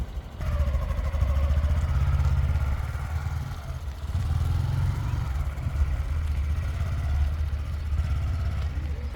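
A Honda Grom small motorcycle engine revs and drones steadily nearby in a car park, its pitch rising and falling as it rides past and around.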